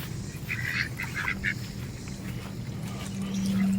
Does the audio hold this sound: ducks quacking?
yes